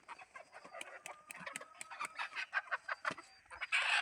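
Several desi (native Indian) chickens cluck and chatter close by in a busy, irregular stream of short calls, with a louder squawk near the end.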